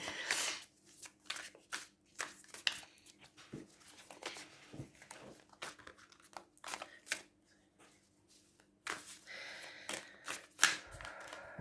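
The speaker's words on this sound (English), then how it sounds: "the sound you can hear is me shuffling" Tarot cards are shuffled repeatedly up close, a steady run of short papery riffles and taps with small pauses between them.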